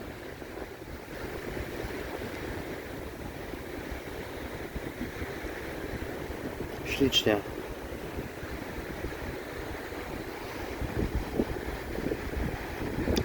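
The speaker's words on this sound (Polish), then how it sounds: "I te fale." Sea waves wash continuously onto a beach in the Philippines in a steady broadband roar with wind buffeting the microphone, and someone speaks a word over it.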